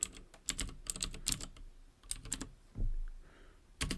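Fingers tap out a git command on a computer keyboard in irregular bursts of close, crisp key clicks, with short pauses between clusters and no speech.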